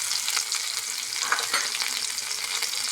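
Mustard seeds, cumin and a crushed green chilli-garlic paste sizzle and spit in hot oil for a horse-gram soup, a steady close crackle with a few sharper pops and no talking.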